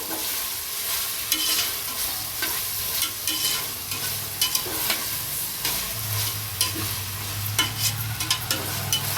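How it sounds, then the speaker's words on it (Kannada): Chicken frying in a pan for biryani, cooked until lightly browned, gives a steady loud sizzle with scraping stirs throughout and a low burner hum beneath; no one speaks. "ಫ್ರೈ ಆಗ್ತಾ ಇದೆ ಒಂದು ಸ್ವಲ್ಪ ಬ್ರೌನ್ ಕಲರ್ ಬರೋಕ್ಕಂಟ ಉರಿಬೇಕು"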